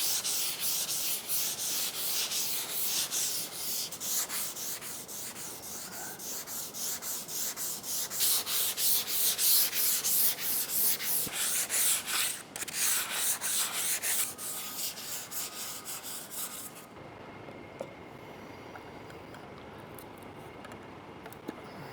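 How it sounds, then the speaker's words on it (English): Steady rasping of sanding on an RV end cap, loud and close, with rhythmic back-and-forth strokes that stop abruptly near the end, leaving quiet. "Let me get some sanding done."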